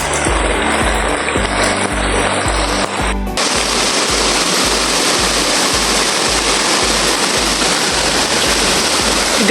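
A mountain waterfall and stream rush in a loud, continuous roar, steady from start to finish, with a brief rhythmic mechanical knocking underneath early on.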